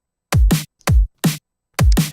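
A drum and bass beat pattern plays alone, with punchy deep kicks and sharp snares landing in a quick, syncopated groove of five clean hits separated by silence.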